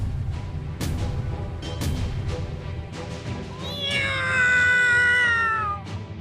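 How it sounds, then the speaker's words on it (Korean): In the video game Trickcal Revive, a single drawn-out cat meow rises clearly above quieter game sounds and a few soft knocks. "뭐야? 이 고양이 소리는..."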